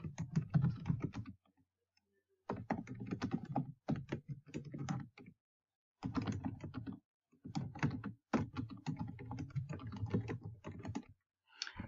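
Close, soft tapping on a computer keyboard in steady bursts of keystrokes separated by brief pauses, quiet and without talk.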